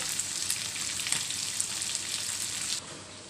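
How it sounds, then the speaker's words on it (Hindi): Fine, crackling sizzle of fish frying in hot oil in a pan for fish curry, steady and close, dropping off abruptly near the end. "सारे फिश फ्राई हो गया है"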